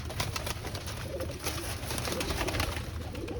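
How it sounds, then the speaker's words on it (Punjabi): A flock of about thirty-one pigeons gathered in a netted enclosure coo steadily and overlapping, a close, continuous murmur of soft throaty calls with no talking. "ਟੋਟਲ ਜਿਹੜਾ 31 ਕਬੂਤਰ ਨੇ ਇਕੱਠੇ ਹੋਏ ਨੇ ਸਾਰੇ।"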